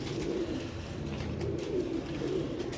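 Lightly built flying pigeons coo softly nearby. Several low, throaty coos repeat in an uneven rhythm over a faint background hum, with no voices.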